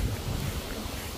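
Strong gusting wind buffets the microphone outdoors in Australia, a steady low roar with rumbling gusts throughout, no voices.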